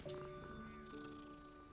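A cat in the Hogwarts Legacy video game purrs softly and briefly, a faint, low rumbling purr with a slight meow-like tone.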